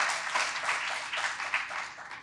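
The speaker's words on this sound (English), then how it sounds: "let's give a round of applause for our sponsors" Audience at a landowner symposium gives a short round of applause for sponsors, a brief, moderately loud patter of clapping from a room of people.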